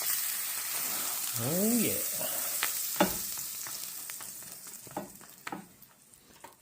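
A green chile chicken quesadilla sizzles steadily in a pan after being flipped, with a few clicks and taps of the utensil against the pan; someone speaks briefly over the frying, which fades slightly toward the end.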